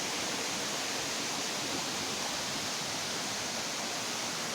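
Steady, dense rush of water falling among rocks in hilly terrain, heard up close and alone as an unbroken broadband roar with no pauses.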